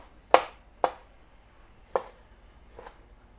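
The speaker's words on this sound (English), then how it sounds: "I'm just roughly chopping it up." A knife roughly chops an heirloom tomato on a cutting board, four sharp, separate thuds spaced unevenly, the last one softer.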